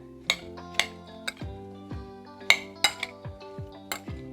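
A spoon clinks and scrapes against a bowl while apple galette filling with cinnamon and vanilla is mixed, a series of sharp, close metallic taps at an irregular rhythm.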